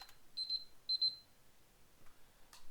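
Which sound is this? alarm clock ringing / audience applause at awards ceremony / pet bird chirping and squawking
alarm clock ringing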